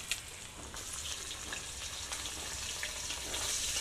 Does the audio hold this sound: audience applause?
no